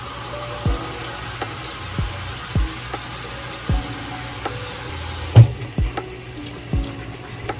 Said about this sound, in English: I'm just gonna wet my face a little bit